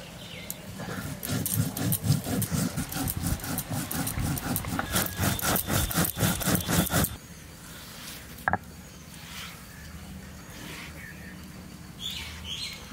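Garlic, salt and spices are ground into a paste with water on a grinding stone, a loud rhythmic scraping and rubbing for about seven seconds, followed by quieter intermittent handling sounds.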